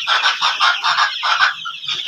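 Fayoumi chickens on a poultry farm give loud, close, repeated clucking and squawking calls in steady bursts that overlap with no gaps, forming a busy flock chorus.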